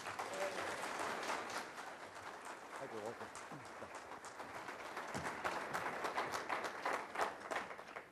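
Audience applause welcoming a speaker at a lecture on the geometry of the Giza complex, a steady wash of clapping filling the room throughout, with some voices mixed in.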